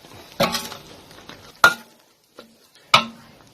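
A utensil stirs Thai fermented soybean dip (lon tao jiao) in a pan over low heat, giving a few separate scraping clinks with quiet gaps between them.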